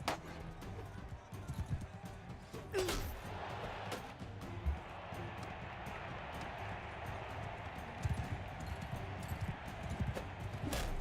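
Horse hooves clip-clopping in the medieval combat video game Bannerlord, a quiet rapid patter of hoofbeats under a low rumbling game soundscape with a few louder thuds, faint and somewhat muddy throughout.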